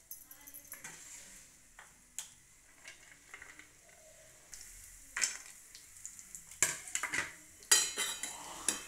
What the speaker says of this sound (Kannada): ಇದು ಗೋಡಂಬಿ ದ್ರಾಕ್ಷಿ ತುಪ್ಪದಾಗ ಸ್ವಲ್ಪ ಕರಿತೀನಿ ಇದನ್ನ.